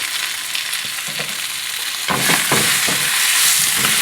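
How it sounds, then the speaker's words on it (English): Fresh spinach goes into a hot pan and sizzles as it wilts, a quieter frying hiss that jumps louder halfway through with bursts of crackle and stirring, no one speaking. "you just want to cook the spinach for a few seconds just to wilt it down"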